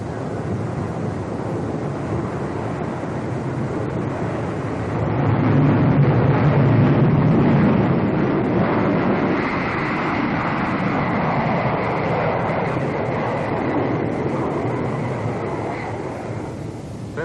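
Four-engine B-47 jet bomber engines opened to full throttle, a loud steady broadband roar with heavy low rumble that swells midway and holds, wind buffeting throughout.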